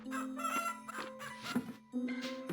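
Chickens in a video game farm setting: a rooster's cock-a-doodle-doo followed by repeated clucks, fairly loud and close over a steady background tone.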